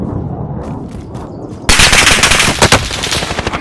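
Sudden bursts of rapid machine gun fire erupt in a video game battle after a quieter lead-in, loud and close, with dense rattling shots continuing to the end.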